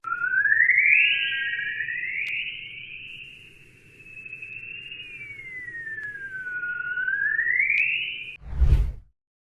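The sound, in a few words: sonified Earth magnetic waves resembling chirping birdsong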